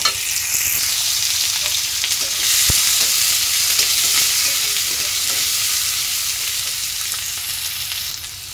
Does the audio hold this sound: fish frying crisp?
yes